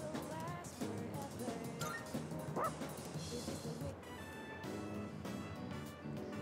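A dog in the video game Persona 3 Reload gives a run of short yips and whimpering barks over soft game sounds, the calls coming close and clear in uneven bursts.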